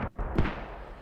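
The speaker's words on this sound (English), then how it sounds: "you can hear the mortars going out" Mortar fire in the tactical shooter Squad during a tournament match, heard as a single booming low thump around the middle, with a sharper crack just before it, set against a steady rumbling battlefield backdrop.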